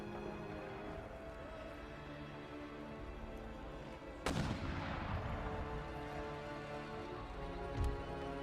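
Distant artillery cannons in Empire Total War boom over a dense, constant battlefield rumble, with one sharp heavy blast near the middle and a second, softer report near the end.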